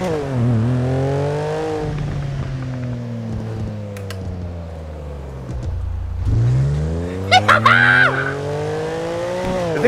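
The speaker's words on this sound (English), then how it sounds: "I can put a drift tune on it and I can drift" A car in the GTA FiveM racing game drifts and skids, its engine revving in long rising and falling sweeps, with brief sharp tire squeals breaking through near the end, loud and close.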